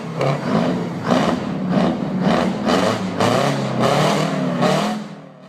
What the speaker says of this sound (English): blower produced a mechanical whine that combined with the rapid firing of the two-stroke cycle to create an unmistakable exhaust note